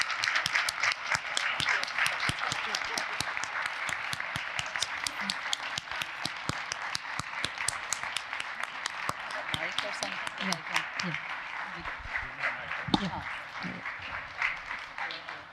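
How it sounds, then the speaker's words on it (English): Audience applause for the core team at a Diwali celebration, many hands clapping steadily and fairly distant, thinning toward the end as a few voices emerge underneath. "So please give them a huge round of applause."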